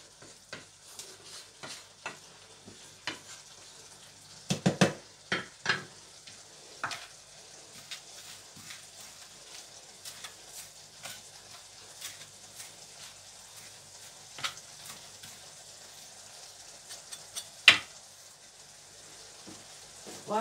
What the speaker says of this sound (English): I put it up high so that the tomatoes can cook.